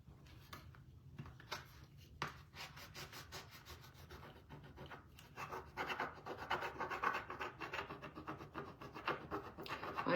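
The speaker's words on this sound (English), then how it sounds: "I'm using a Cricut embossing tool that I got from Amazon." A Cricut embossing tool rubs over a stencil with soft, close scraping strokes that grow louder and denser toward the end.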